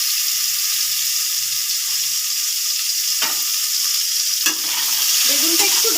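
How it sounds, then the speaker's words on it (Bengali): Salted, turmeric-coated brinjal frying in oil for a Bengali shukto makes a steady, loud broadband sizzle that carries through the whole stretch, with a couple of sharper crackles partway through and no voices over it. "এবার এই তেলে আমরা নুন হলুদ মেখে রাখা বেগুনটাও ভেজে নেব।"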